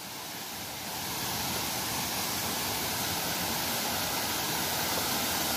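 The Goiabal waterfall at Bom Jardim roars as a steady, dense wash of rushing water, loud and unbroken throughout with no voices.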